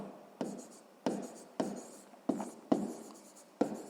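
A pen writes by hand in a notebook with close, scratchy strokes in a steady rhythm, about six firm strokes, each fading quickly before the next.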